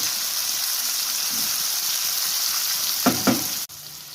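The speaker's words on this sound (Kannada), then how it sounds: "ನೀಟಾಗಿ ಫ್ರೈ ಆಗಿದೆ ಈರುಳ್ಳಿ." Chopped onions frying in a pan for paneer rice give a steady, close sizzle that runs throughout, with a couple of brief louder stirring scrapes near the end.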